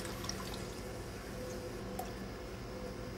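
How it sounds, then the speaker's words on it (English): Whey from homemade mozzarella drains through cheesecloth into a strainer, giving a steady, soft dripping and trickling wash of liquid with faint squishy handling, continuous and close. "as you can see how I'm picking it all up and drain up as much as possible"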